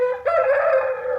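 A champion fighting rooster gives one loud, sustained crow, close and alone, with a sharp onset that holds steady before trailing off.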